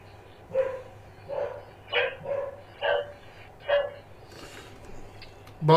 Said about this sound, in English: Merlin is barking.